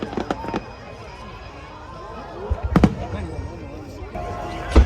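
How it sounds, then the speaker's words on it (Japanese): Pikachu-themed fireworks bursting at a Japanese summer fireworks festival, several sharp distant booms and crackles spaced a few seconds apart, with excited voices in the crowd talking between them. "キャプテンピカチュウ花火。"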